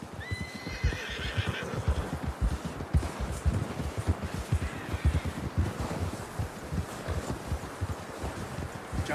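A horse in Red Dead Redemption 2 whinnies near the start amid steady clip-clop hoofbeats, the rhythmic trotting continuing loudly with some wind and rustling in the background.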